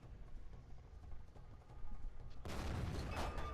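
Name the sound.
tank gun firing in a video game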